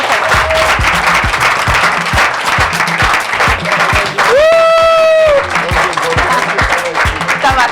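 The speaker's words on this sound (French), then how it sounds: "On applaudit très fort pour Garibou Faba." A French television studio audience applauds loudly and continuously throughout, with a dense wash of clapping, some cheering, and a brief whistle-like tone rising out of the crowd midway.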